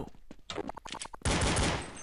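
Gunfire in Counter-Strike on the de_mirage map: a rapid string of sharp close shots, then a dense, loud burst of overlapping automatic fire that fades slightly at the end.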